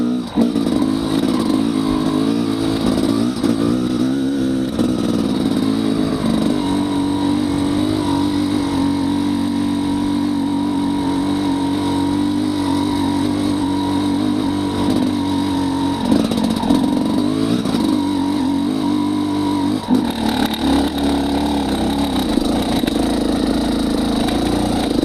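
A SmartCarb SC2-equipped motorcycle engine runs steadily at low revs, its pitch shifting a few times as it moves through gears without the clutch, with no talking over it.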